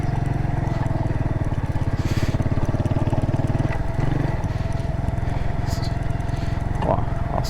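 Motorcycle engine idling and revving steadily on a village road during an Asian road trip, a continuous low throbbing rumble up close with a rider's voice talking over it.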